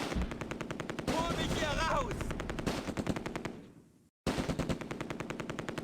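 A machine gun fires in Close Combat A Bridge Too Far, a fast steady stream of loud rattling shots that briefly cuts out near the end before resuming at full pace.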